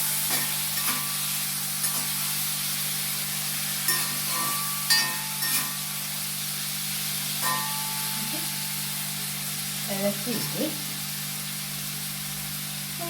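Prawns fry in a pan over lowered flame, hissing steadily while a spoon stirs them at intervals with scattered scrapes and clacks, close by, with a low steady hum underneath and no talking.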